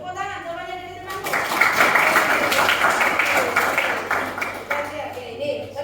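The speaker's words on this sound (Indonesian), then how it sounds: "Tepuk tangan semuanya dari temanku." A classroom of students applauding a classmate, dense clapping that starts abruptly, holds steady for several seconds and thins toward the end, with a voice briefly heard before it begins.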